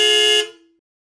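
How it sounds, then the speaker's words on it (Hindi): A car horn gives one loud, close blast lasting under half a second, then cuts off with a brief ringing tail. "कतई कहीं के हॉर्न बजाना बंद करो"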